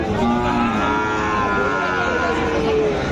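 A white Sahiwal cow moos in long, drawn-out calls at a busy cattle market, loud and close, with crowd chatter running underneath.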